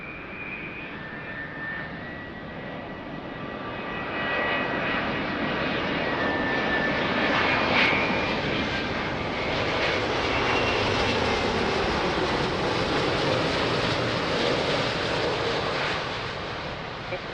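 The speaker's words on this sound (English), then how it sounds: "So this time it's Delta 330, beautiful 330. Will be an amazing landing for sure." A Delta Airbus A330 airliner lands at Lisbon Airport with a loud, continuous jet roar that swells and holds steady as the aircraft passes nearby, heard on its own without talk.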